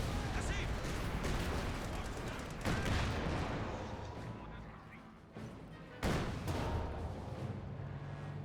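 An M42 anti-tank gun fires at a Sherman tank in Company of Heroes 2, amid a loud continuous din of battle with repeated heavy shots and blasts, while a voice talks over it.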